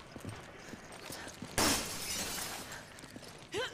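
Glass shattering in the Resident Evil 5 video game: one sudden loud crash of breaking glass, followed by a sustained tinkling decay of falling shards, with quieter game sounds around it.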